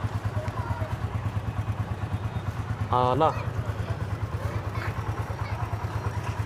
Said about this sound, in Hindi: साउंड सुने, बहुत कंफर्ट, बहुत एक कंफर्ट में, एक अच्छे साउंड में, रिदम में बाइक बोल रही है।